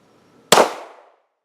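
A single sharp pistol shot from a Glock 43 or MP 40 fired at a 10-inch steel plate at an outdoor range, a loud crack with a brief decaying ring afterward.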